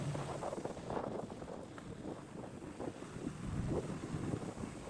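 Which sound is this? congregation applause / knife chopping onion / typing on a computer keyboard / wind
wind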